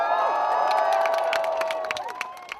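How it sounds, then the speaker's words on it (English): A large crowd cheers outside St James's Palace at the proclamation of the new king, a sustained roar of voices and whoops that fades slightly toward the end. "the crowds of thousands allowed outside St James's Palace to hear the new king proclaimed"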